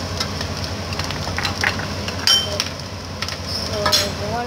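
Homemade lasagna sauce frying in a pan while it is stirred, a steady soft sizzle with light scraping and occasional clinks of a utensil against the pan.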